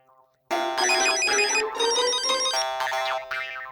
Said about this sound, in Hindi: टप्पू का फोन तो उठा।